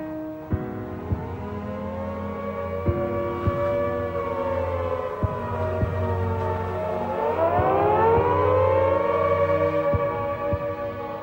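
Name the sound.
air raid civil defense siren in the Blitz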